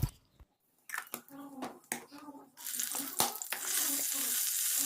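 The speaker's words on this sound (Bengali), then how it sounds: "এখন কাঁচা লঙ্কা আর কালো জিরা ফোড়ন দিয়ে শাকটা দিয়ে দেবো।" Greens go into hot oil tempered with green chilli and nigella seeds, first heard as scattered clicks and clinks under a voice, then a loud sizzle that swells and holds to the end.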